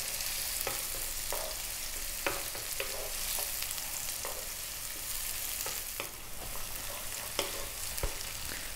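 Chopped onion frying over above-medium heat in a pan for a vegan tomato curry, a steady broadband sizzle with repeated sharp scrapes and taps of a spoon as it is stirred, close and continuous with no talking.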